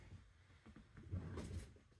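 A drawer slides open with a short scraping rattle during a search through craft embellishments, quiet and close, with a brief clatter of contents.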